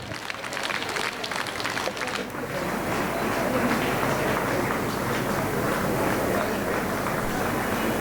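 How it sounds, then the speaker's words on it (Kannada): At a Karnataka music award ceremony, a crowd claps for two honoured achievers in a steady, dense wash of applause that starts with brighter, crisper clapping and settles into a fuller roar. "ಚಪ್ಪಾಳೆ ಸಾಲದು, ಇನ್ನು ಜೋರದ ಚಪ್ಪಾಳೆ ಈ ಇಬ್ಬರು ಸಾಧಕರಿಗೆ"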